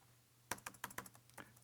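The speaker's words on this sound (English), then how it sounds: "You can see what I'm typing is up here." Close-up typing on a computer keyboard: a quiet pause, then a quick run of about eight crisp, uneven key clicks over roughly a second, alone with no talk.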